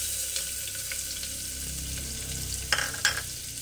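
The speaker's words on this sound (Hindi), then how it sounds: "इसे हम भून लेंगे और गोल्डन ब्राउन होने तक पकाएंगे हम प्याज को" Chopped medium onion frying in oil over a high gas flame, a steady close sizzle with a few louder stirring scrapes near the end.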